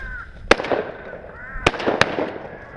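Shotgun blasts during a crow hunt in Arkansas: three sharp, loud reports, one early and two close together near the end, with outdoor noise and a voice speaking between them.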